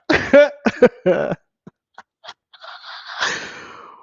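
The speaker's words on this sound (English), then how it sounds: "Ooh, got a cough." Several harsh coughs burst out up close, followed by scattered small throat sounds and a raspy, breathy exhale.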